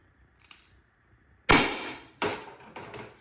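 An Umarex HDP 50 air pistol with a polished tuning barrel fires with a sharp, loud crack, followed by a second shot about a second later, after a faint click and near-silence.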